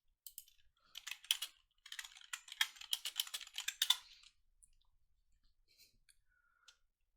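Quick bursts of clattering keystrokes on a computer keyboard, close and crisp, run for about four seconds in uneven rhythm, then trail off into a few sparse isolated clicks amid near silence.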